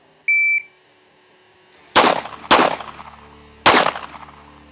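Three loud, sharp pistol shots crack out about a second apart at a shooting range, each followed by a short ringing decay, preceded by a brief electronic beep from a shot timer.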